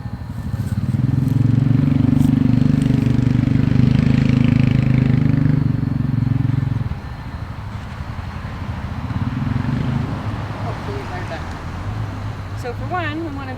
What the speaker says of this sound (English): We've got a quad coming, so I apologize for the noise.